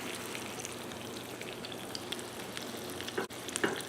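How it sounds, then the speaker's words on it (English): A beef and bean quesadilla with cheese in a pan gives a steady, even sizzle as the tortilla crisps, close and continuous with a few faint clicks. "just a matter of crisping up the tortilla and melting that cheese"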